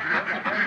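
Egg-laying ducks on a farm let out three quick, loud, close quacks in an even rhythm, one after another.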